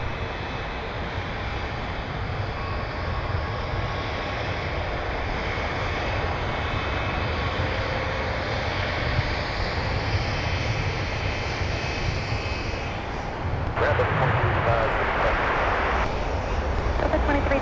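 Delta Boeing 757-300 jet engines at MSP airport, a loud steady roar with a broad hiss that swells near the end, over faint background talk.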